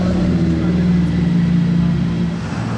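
A Bugatti T50 engine cranks and catches, producing a loud, close, steady mechanical roar with a low rumble that runs throughout and eases slightly near the end.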